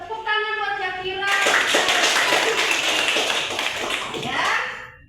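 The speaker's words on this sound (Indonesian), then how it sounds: "Tepuk tangan buat Zakira." A classroom of students bursts into lively clapping after a short sung or chanted vocal, the applause loud and sustained for several seconds before tapering off.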